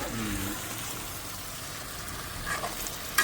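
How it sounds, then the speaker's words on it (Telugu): Tomatoes frying and softening on low heat in a pan for a green pulao and chicken curry, a steady soft sizzle running throughout at close range, with a brief clink near the end. "ఇప్పుడు టమాటా మగ్గుతుంది"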